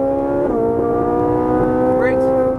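An exotic sports car on a Las Vegas racetrack powering out of a turn, a loud close engine drone climbing steadily in pitch as it accelerates, with a rising whine near the end.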